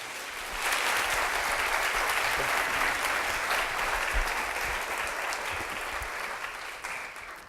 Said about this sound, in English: ça me fait un énorme plaisir de vous demander d'applaudir chaleureusement là